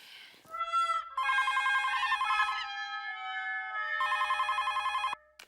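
A telephone rings indoors with bright electronic trills that sound in two long bursts separated by a short gap, loud and clear.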